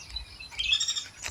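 A blue-crowned hanging parrot in an aviary gives a few thin, high chirps and short squeaky calls, faint and brief against a quiet low rumble.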